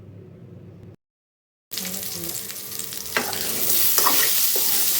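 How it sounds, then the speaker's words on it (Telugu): Brinjal fry sizzling in a pan while being stirred, quiet at first, then after a brief gap a loud continuous hiss and crackle with scraping stirs that gets stronger toward the end, with no voices. "మధ్యలో కలబెట్టుకుంటున్నాం"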